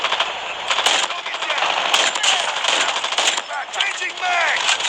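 Rapid automatic gunfire from a weapon in a first-person shooter match, dense and continuous at mid distance with crackling bursts, layered under in-game effects and other busy game sounds.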